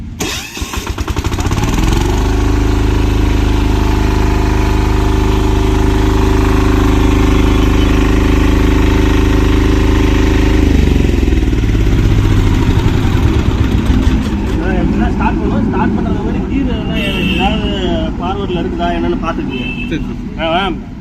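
A Kisankraft 406D power weeder engine cranks and fires up, then runs at a loud, steady chugging idle for about ten seconds before settling into a rougher, varying run while someone talks over it.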